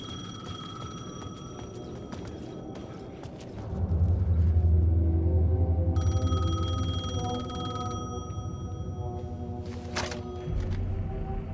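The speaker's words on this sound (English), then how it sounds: "The phone was ringing." A telephone rings in the video game Alan Wake 2, its bell tones repeating over a steady low ambient rumble, fairly clear and close with no voices.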